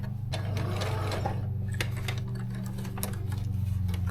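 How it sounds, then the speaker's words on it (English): A sewing machine stitches a scrunchie seam, its motor humming steadily with a fast regular needle clatter throughout, loud and close with no talking. "just sew like you normally would, making sure to backstitch"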